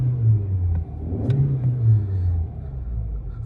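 A 100 horsepower 1.6 litre naturally aspirated engine in a 2007 Audi A3 idles and revs smoothly with a low, steady rumble, heard from close by with no one speaking.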